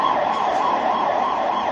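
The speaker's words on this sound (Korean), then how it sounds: "앰뷸런스가 왜 오지?" An ambulance siren wails on a city street with a steady, loud rising and falling tone that carries through the whole stretch, and no voices are heard.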